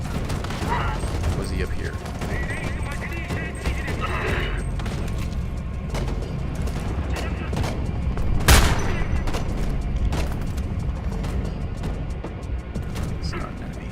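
Sniper and other gunfire in Homefront: The Revolution, with repeated sharp shots and one loud crack standing out mid-clip. Someone speaks briefly over the gunfire.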